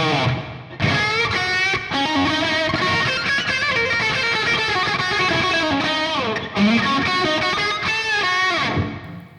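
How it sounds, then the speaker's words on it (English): Distorted metal electric guitar through the Audio Assault Hellbeast plays a few sustained chords and notes, washed in a spacious reverb that lets each phrase ring and trail off. "And next up is the reverb."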